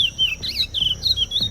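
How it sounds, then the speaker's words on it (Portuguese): A curió, an Amazon songbird, sings a run of bright, high chirping phrases that repeat in quick succession, close and clear over a low background hum. "Esse é o curió, pássaro que vive na Amazônia."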